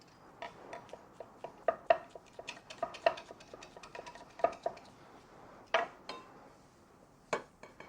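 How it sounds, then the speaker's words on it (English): A knife chops roughly through basil on a board, quiet, close and irregular, with sharp scattered knocks and a few louder taps, no voices. "You chop roughly the basilic as well."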